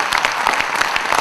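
A crowd applauds to welcome the chief guest at a Dena Bank platinum jubilee celebration in Thane, with dense, steady clapping lasting briefly.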